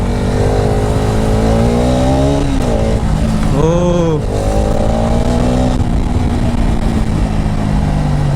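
A motorcycle running without a silencer gives a loud, raw, continuous engine roar close by, with a couple of sharp revs that rise and fall midway and a brief voice.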